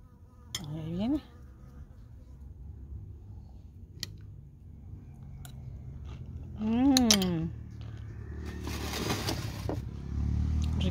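A bee buzzes around food in a garden, a faint, intermittent drone with a few brief swooping sounds and soft background noise, growing a little louder near the end.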